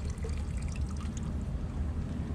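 A new bilge pump on an Alberg 30 sailboat discharges water in a steady, continuous pouring gush with a low rumbling undertone, close and fairly loud throughout, with no talking.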